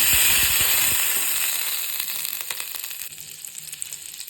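Okra hits a heated pan for mushroom masala gravy and sizzles loudly, with a bright hiss and a few crackling pops that gradually settle into a quieter, steady fizz.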